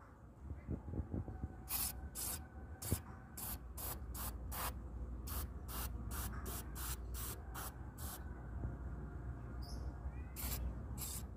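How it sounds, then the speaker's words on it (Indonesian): Cleaner sprayed from a can onto the lock and unlock parts of a jammed motorbike mechanism, about fifteen short sharp hissing bursts in quick irregular succession, close and fairly quiet, with no voices. "Jadi langsung saja kita semprotkan ke sini dengan tenaga penuh kita semprotkan sampai benar-benar bersih"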